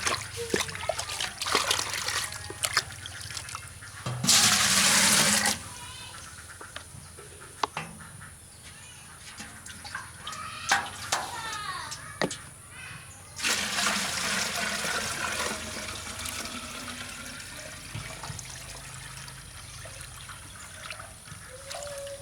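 Water trickles and splashes into a bucket as a liquid mix is poured and stirred for watering spinach beds, with bursts of heavier gushing between quieter dribbles, close by and without talk.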